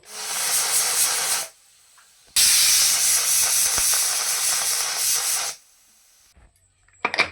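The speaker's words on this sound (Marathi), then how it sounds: "आता आपण आहे ना कुकरला झाकण लावून कुकरच्या दोन शिट्या काढून घेणार आहोत" A pressure cooker cooking coconut rice loudly hisses out steam in two long bursts, each lasting a few seconds, with a short quiet gap between them and faint clatter after the second burst.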